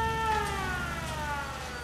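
Wailing emergency siren from the video game Fallout 4, a steady rising-and-falling tone with layered harmonics sounding alone for a couple of seconds, fairly close and moderately loud.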